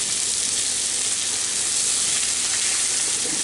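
Butter sizzling steadily in a frying pan before cube steak goes in, a continuous close hiss of fat crackling with no talking.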